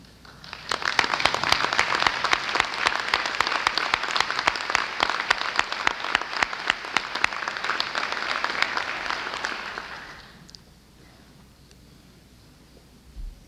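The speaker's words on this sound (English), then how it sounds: "would you please stand so that we can give you a round of applause?" Audience at a 1991 Paducah Community College presidential inauguration breaks into steady applause for about ten seconds, dense and fairly close, then fades out to a quiet room.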